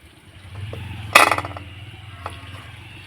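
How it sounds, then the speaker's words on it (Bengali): Metal plate set down into a heated wok, one loud clanging clatter with brief ringing, then a fainter clink over low background noise. "এবার আমি থালাটা বসিয়ে দিব কড়াইয়ের মধ্যে"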